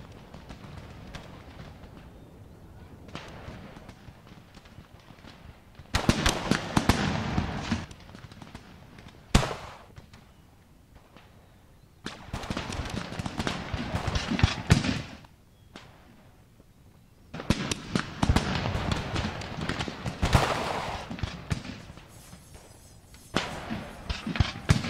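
Artillery cannon fire in the Napoleon Total War American Civil War mod battle game booms in repeated clusters of sharp blasts, with quieter gaps of distant rumble between them.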